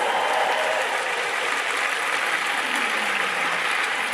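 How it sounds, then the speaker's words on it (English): Audience applause at a Capital Singers choir show, a dense, steady wash of clapping from a crowd that fills the whole stretch at a fairly loud, even level. "give him a round of applause."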